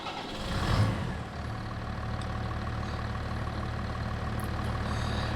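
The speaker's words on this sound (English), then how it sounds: "So let's jump into the tractor and have a look" A farm tractor's engine runs at a steady low idle, a constant deep rumble with a brief swell near the start, continuing evenly and fairly close.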